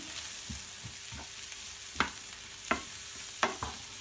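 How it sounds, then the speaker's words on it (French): Shallots and mushrooms frying in a pan, a steady soft sizzle broken by a series of scraping stirs and several distinct knocks of the spoon against the pan. "Une fois que les échalotes sont revenues, on va y mettre les champignons. On mélange bien."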